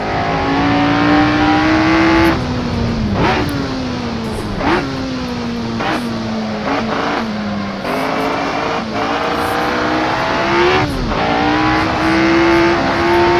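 A race car in Assetto Corsa drives through rain, its engine loud and close as it drops through successive downshifts with sharp rev blips, then climbs again on acceleration, with tire noise underneath.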